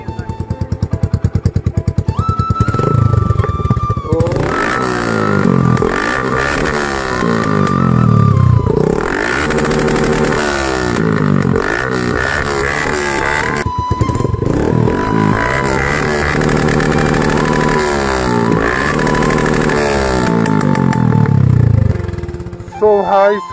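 A Suzuki Gixxer Monotone motorcycle with a modified exhaust runs close by, idling with a rumble and then revved repeatedly in rising and falling bursts, loud throughout with some clatter.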